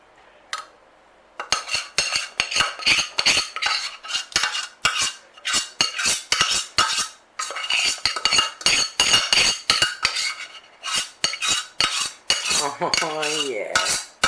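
A metal utensil rapidly whisks brownie batter of eggs and chocolate mix in a bowl, producing fast, loud, close rhythmic clinking and scraping that runs in bursts after a quiet start.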